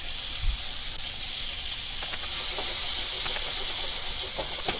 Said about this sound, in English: That's frying potatoes. The hash browns.